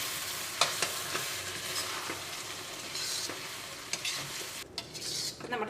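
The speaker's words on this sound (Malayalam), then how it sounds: "ഇടയ്ക്ക് ചിക്കൻ കറി ഒന്ന് ഇളക്കി കിടക്കണം" Chicken curry stirred in a pot, a spoon scraping and knocking against the metal in irregular strokes over a soft, continuous simmering sizzle, close and fairly quiet with no talking.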